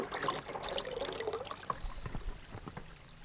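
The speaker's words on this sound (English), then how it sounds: "I keep the water in that Tupperware to keep washing out the brushes" A paintbrush is rinsed in water held in a Tupperware container during landscape painting, giving soft, close trickling and sloshing that stays faint throughout.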